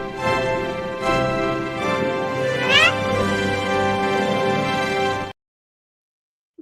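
A cat meows in a short played-back clip, a drawn-out harmonic call with one sharp rising squeal, moderately loud, then the sound cuts off abruptly.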